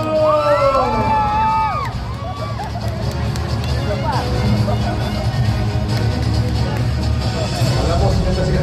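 An arena crowd at a large indoor event cheers and shouts with whoops and rising calls over a dense, steady roar of voices, heard from within the audience.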